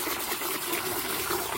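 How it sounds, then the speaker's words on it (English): Water runs steadily out the side of a hole dug for washing walnuts, a continuous close gushing and trickling wash with no pauses and no talk. "Your water's running out the side there"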